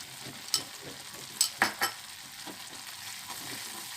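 A spoon stirs a milk and coconut barfi mixture with ghee in a pan, a low sizzle under a few distinct scraping knocks against the pan, fairly quiet and close.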